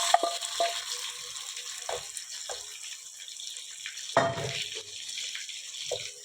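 Soft sizzling of onions frying with spices in a pan for chicken korma, with a few sharper clinks and scraping sounds from stirring; no talking.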